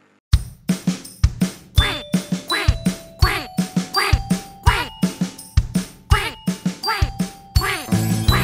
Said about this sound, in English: Duck said, quack, quack, quack